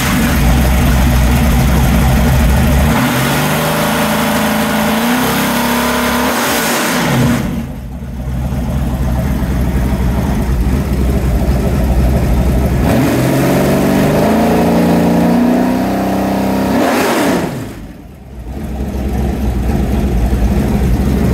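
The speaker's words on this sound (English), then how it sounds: "I'll fire it up again." A 427 Ford V8 making 540 horsepower runs loud and close, idling with rumbling and revving up in two bursts that briefly drop back before settling into a steady roar.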